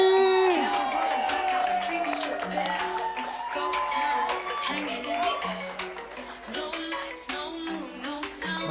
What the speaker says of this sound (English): with a round of applause, let us welcome on stage